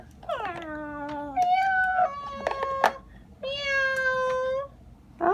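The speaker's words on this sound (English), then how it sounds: "I think I see a cat." A cat meows repeatedly behind a door in a house, several drawn-out, close meows with short pauses between them and a brief final cry at the end.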